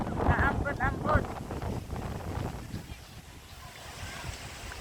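Wind gusting across the Dupinga River in Gabaldon, Nueva Ecija, a steady rushing blow with water noise and mic buffeting, while voices talk over the first second or so.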